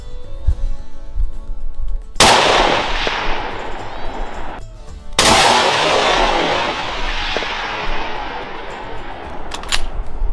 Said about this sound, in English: Taking the shot.